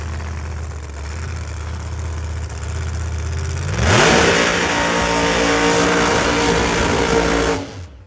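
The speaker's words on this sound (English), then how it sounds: "David Mallory, the blue Corvette, going to kick off qualifying session number 2 for Outlaw Pro Mods." David Mallory's blue Corvette Outlaw Pro Mod drag car at London Dragway qualifying rumbles at idle, then erupts into a loud, sustained roaring launch about halfway through before the sound drops off at the very end.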